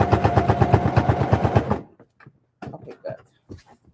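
A sewing machine stitches an apron in a steady, fast run of close mechanical pulses for under two seconds, then stops, leaving faint handling clicks and soft rustles.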